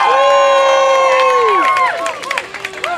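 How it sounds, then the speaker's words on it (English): Outdoor protest crowd in Kanawha Plaza Park, Richmond, Virginia, against Dominion Power, cheering and whooping loudly at first, then breaking into scattered clapping and shouts as the noise thins. "give yourselves a hand for coming today"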